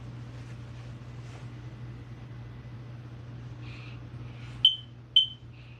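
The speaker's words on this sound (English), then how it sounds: "Smoke and carbon monoxide alarm." A Kidde smoke and carbon monoxide alarm gives a double beep, two sharp high chirps about half a second apart, heard indoors over a steady low hum with faint earlier tones.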